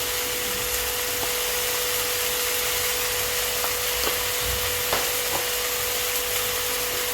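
Spices with turmeric, chili powder, salt and a little sugar are frying in a pan, producing a steady, loud hiss that carries through the whole clip, with a few faint scrapes of stirring and no voices.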